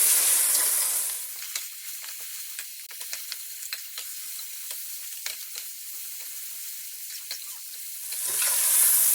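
Ground masala stirred in hot oil in a pan for chicken biryani, a soft steady sizzle with repeated light scraping strokes of the spoon, close up and fairly quiet, with louder hissing bursts at the start and end.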